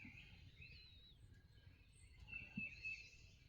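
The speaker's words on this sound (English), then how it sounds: "You hear the birds?" Several birds call and chirp faintly outdoors in the countryside, short warbling phrases scattered over quiet ambient background, with no voices.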